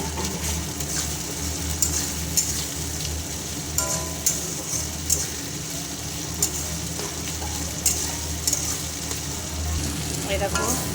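Tomato, onion and ginger paste frying in a pan for a Bengali rui posto fish dish, a steady close sizzle with occasional stirring clicks and scrapes throughout.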